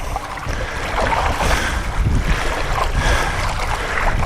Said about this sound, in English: we've got the wind coming up behind us now,